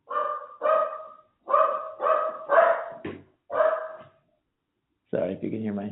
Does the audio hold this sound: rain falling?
no